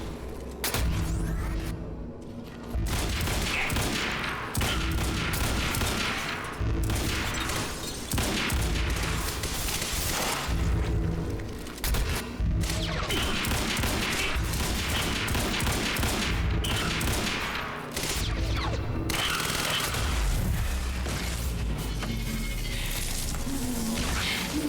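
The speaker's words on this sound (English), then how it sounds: "Let's use the rifle." Rifle gunfire in the action shooter Quantum Break, loud and continuous, in dense volleys of shots mixed with crashes and booms that fill the whole stretch.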